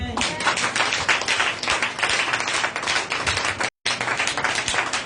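A congregation at a Sunday praise and worship service claps together to acclaim Jesus. The dense, rapid clapping is loud and close, with voices mixed in, and it cuts out briefly near the end before carrying on.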